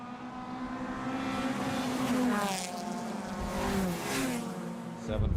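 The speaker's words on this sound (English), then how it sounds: "Drag race to the flag now." A Toyota Celica and a Honda Civic race car drag race side by side to the flag on a circuit, their engines droning loudly and steadily with rising and falling pitch as they pass.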